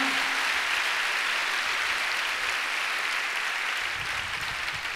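A church congregation claps together in sustained, dense applause that holds steady and fairly loud for the whole stretch, with no voices standing out above it.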